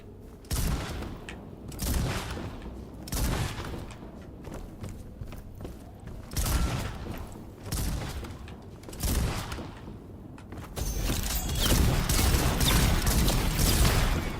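Gunfire in the video game Enotria: The Last Song comes as repeated heavy bursts spaced a second or two apart, loud and close, followed by a denser sustained stretch of combat noise.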